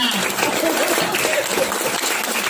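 An audience applauds steadily at an event about kidney stones and kidney failure, a dense, continuous wash of clapping heard close and fairly loud throughout.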